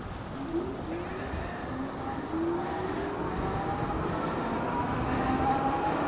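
Ride1Up Cafe Cruiser electric bike accelerating on its thumb throttle, giving a steady whirring ride noise with a rising motor whine and rushing wind, continuous and fairly loud throughout with no talk.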